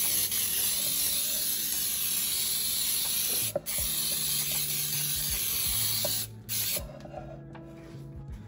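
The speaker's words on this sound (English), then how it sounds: "I am going to start by spraying with Baker's Joy." A long continuous hiss of Baker's Joy baking spray from an aerosol can into a Bundt cake pan, cut briefly twice, then stopping near the end.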